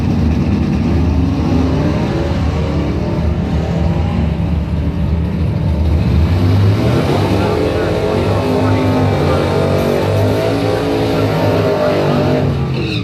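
Drag race run at a bracket points event: a 1979 Camaro lines up against a 1967 Camaro, with loud, continuous engine roar and revving filling the whole stretch while a voice talks over it.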